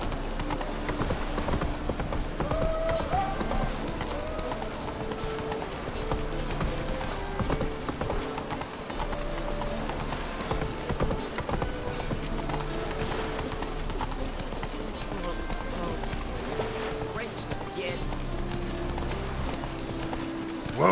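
Hooves of Roach, the horse in The Witcher 3, beat out a steady, rhythmic gallop that runs unbroken throughout, close and continuous over a faint game ambience.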